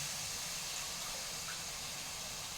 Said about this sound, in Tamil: ஒன்றரை அழகுக்கு நாலு டம்ளர் தண்ணி வைக்கிறேன்